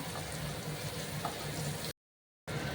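Ginger-garlic paste frying in a pan for butter chicken, a steady close sizzle with fine crackling throughout, broken by one short gap of silence.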